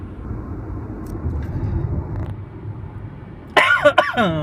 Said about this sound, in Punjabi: ਓਏ ਖੰਘ ਆ ਗਈ ਯਾਰ।